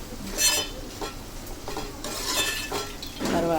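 Chili powder stirred into a frying pan with a utensil, steady scraping and clinking against the metal over a faint sizzle, continuous and close with no talk.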